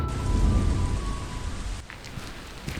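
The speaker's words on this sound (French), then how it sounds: "Bon, fuyons la pluie." Rain falls steadily as a dense hiss of drops, strongest at first, then easing slightly; no voices.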